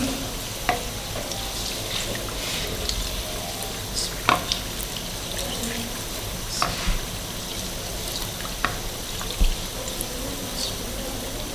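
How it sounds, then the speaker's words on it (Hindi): Chicken kachori sizzles steadily in hot oil while oil is ladled over it, with a constant crackling hiss broken by occasional sharper splashes and spatters up close. "आपने कचौरी के ऊपर ऑयल डालते जाना है, साथ साथ आपकी कचौरी प्यारी सी फूलती जाएगी।"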